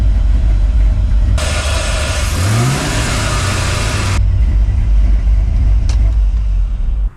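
An LS V8 car engine cranks, catches with a rising roar and settles into a steady, loud, close idle rumble that carries on to the end.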